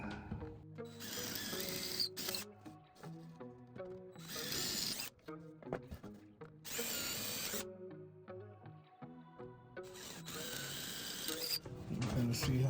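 A power drill with a bigger bit bores holes in quarter-sawn oak while repairing a Victorian buffet backsplash. It runs in about four fairly quiet, separate bursts with pauses between them.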